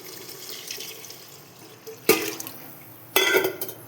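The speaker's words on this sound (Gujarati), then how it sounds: "હવે આમાં પાણી એડ કરી દઈ." Water is poured into a pot of pulao with sautéed vegetables in two separate splashy bursts, the second longer and fuller, close by against a quiet room.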